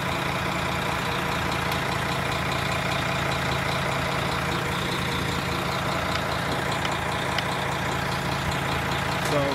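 Diesel engines of an O-Train idling at a Greenboro station platform, a steady loud rumble and hum with no talk over it.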